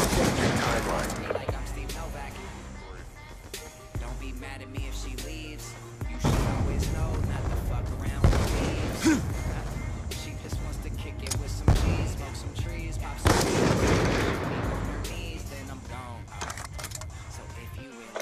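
Rapid MP7 gunfire bursts in a shooter video game's Search and Destroy mode on the map Studio, loud repeated rattling under someone commentator's voice.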